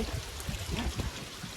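Rainwater runs continuously at Jivdhan fort in the rainy season, a faint, steady trickling rush with no voices.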